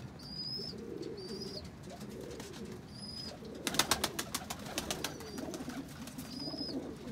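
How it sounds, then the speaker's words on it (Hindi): Ferozpuri pigeons, a male shown among others, give soft, low, repeated cooing throughout, with thin higher bird chirps above and a brief burst of sharp flapping clatter midway. "बड़ा हसीन कबूतर है"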